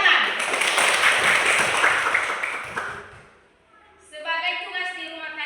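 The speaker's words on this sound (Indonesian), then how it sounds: "Tepuk tangan." Students clapping together in a classroom, a dense burst of applause lasting about three seconds before dying away, followed by a brief musical tone.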